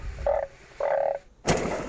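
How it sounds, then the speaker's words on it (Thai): A frog croaks in two short, loud, close calls, followed by a sharp burst of noise, with no voices, outdoors after fresh rain. "นี่ก็คือกบนะครับเนาะ"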